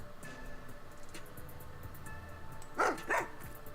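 A dog barks twice in quick succession near the end in the video game Master Detective Archives: Rain Code, over a faint, steady background tone.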